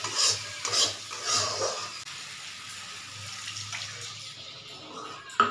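Water poured into a spiced curry base in a pan and stirred through: splashing, watery swishing and spoon-on-pan scraping, loudest at first, then settling into a quieter bubbling simmer with a final clank.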